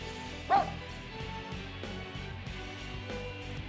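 The dog Koromaru in the video game Persona 4 Arena Ultimax gives a single short bark near the start, set over quiet background game music.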